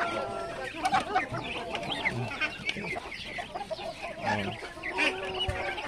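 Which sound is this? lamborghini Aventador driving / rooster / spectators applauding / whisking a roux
rooster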